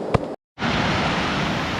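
Water spills over a log waterfall in a steady, close, loud rush that starts after a brief knock and a moment of silence.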